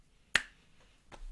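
Two finger clicks, a sharp loud snap followed after a pause by a softer second one, close and dry with nothing else around them.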